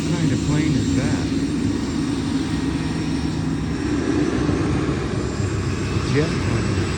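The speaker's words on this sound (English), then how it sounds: "Jet plane." A jet plane flying over an airport gives a steady, loud broadband engine roar that holds evenly for the full seven seconds, with some faint human voices underneath.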